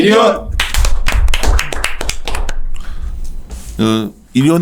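A group clapping indoors at a clothing-company meeting, a dense close burst of claps lasting a couple of seconds, followed by people speaking.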